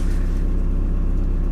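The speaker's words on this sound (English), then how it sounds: "Right, engine's on." A van's engine idles in neutral, a steady, loud, close low rumble with a faint regular pulse and no talking.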